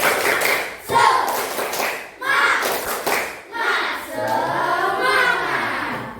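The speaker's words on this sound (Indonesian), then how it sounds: "Seperti biasa kita tepuk semangat dulu." A school class doing a rhythmic spirit clap led by the teacher, bursts of many hands clapping in patterned beats mixed with chanted children's voices and speech, loud and close.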